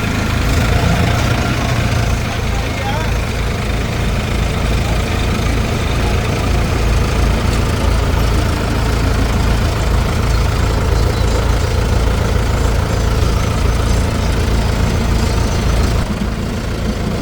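A tractor engine idles steadily on a potato farm, a loud, continuous low rumble that holds evenly throughout with no talk over it.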